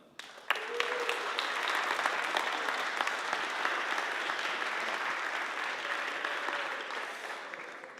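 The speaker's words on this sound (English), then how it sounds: "So a big applause for yourself." A conference audience breaks into applause that starts suddenly, then holds as a dense, steady wash of clapping from many hands before easing off toward the end.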